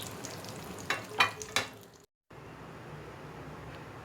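Flipped aloo besan tikki, potato and gram flour cutlets, sizzle softly in oil. A few quick scraping or tapping sounds come first, then a short gap, then a faint, steady fry alone.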